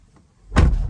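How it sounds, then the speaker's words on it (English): A 2014–2019 Corvette C7 door shuts with a single solid, deep thud after a faint rustle, close and loud, then a short low resonance fading out. "I shut the door, I start it."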